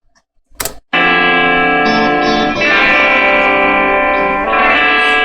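Bright, driven electric guitars from a chorus, played on the back pickup with a raking attack and layered effects, ring out as a loud sustained chord wash after a brief click, shifting harmony every couple of seconds with no talk.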